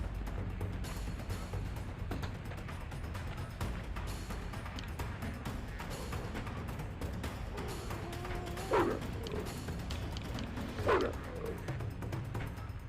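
Dogs barking in the video game Survival Craft, a few sharp barks and yelps sitting above a low, steady game background hum, with no talking.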